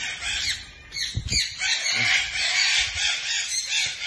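A female green-cheeked conure of the pineapple mutation in a flight cage gives loud, harsh squawks, close by, repeated in quick bursts across a few seconds.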